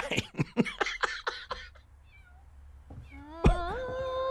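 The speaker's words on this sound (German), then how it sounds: "Miau, miau, miau, miau, miau." A cat meows several times in quick succession in the video game Copycat, short rising cries in a rhythmic run, then a longer drawn-out meow after a brief pause.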